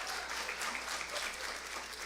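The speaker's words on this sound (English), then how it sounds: "Let's give Laura a round of applause" A short round of applause from a homebuyer workshop audience, a steady patter of many hands in a room, fairly faint and continuous, with no talking.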